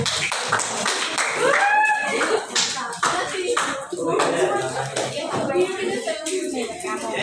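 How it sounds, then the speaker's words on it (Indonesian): Classroom students clap for a classmate during a lesson, a busy patter of hand claps mixed with shuffling and voices talking over it, close and continuous. "tepuk tangan dulu untuk temennya"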